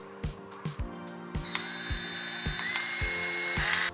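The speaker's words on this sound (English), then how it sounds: "you can drill small holes into the tops of the resin casts" Small Dremel rotary tool drilling holes into resin earring casts: a high-pitched whine that starts partway through, under a steady series of sharp ratcheting clicks spaced about half a second apart, close and fairly loud.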